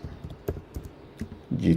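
Keystrokes on a computer keyboard as a git clone command is typed at a command prompt, a run of sharp separate clicks with uneven rhythm, close and fairly loud, with a denser clatter of keys near the end and no talking.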